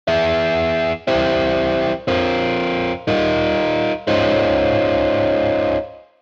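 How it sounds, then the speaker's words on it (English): An electric guitar run through an amp simulator rings out in five heavily distorted chords, each struck and sustained for about a second, the last one left to fade, with no talking. "Let's beef up our electric guitar with an amp simulator."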